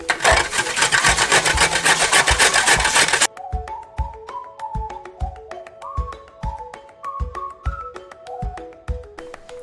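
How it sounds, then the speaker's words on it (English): Carrots are grated by hand for chicken shawarma, giving rapid rhythmic rasping strokes up close for a few seconds, then the scraping stops and sharp repeated taps with faint melodic tones follow. "I'm going to peel the carrots. And I'm actually going to grate them."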